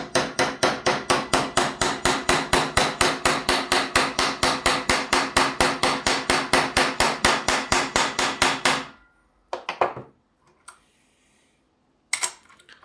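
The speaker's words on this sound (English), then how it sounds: "put on the vise and then just hammer this axle in place" An axle is hammered into a gear held in a vise, about thirty-five rapid, evenly spaced sharp metallic blows in a loud continuous run, then a pause with a few scattered knocks and handling sounds.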